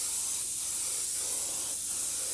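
Steady continuous hiss of spray paint laying a thin base coat onto 18-inch Saleen car wheels, close and even throughout with faint pulsing, no voices.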